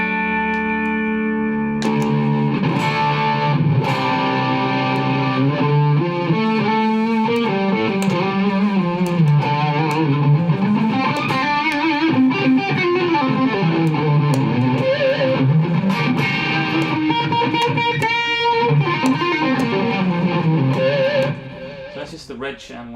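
An electric guitar plays through a digital rig on the red channel with boost, giving a loud, continuous, saturated tone. Sustained chords and riffs ring out for about twenty seconds, then stop abruptly near the end.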